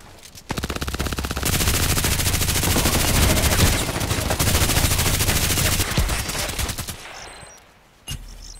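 Rapid sustained bursts of automatic fire from an RPKT tactical machine gun in the Contract Wars video game, loud and close, with a brief pause near the end and a final shot.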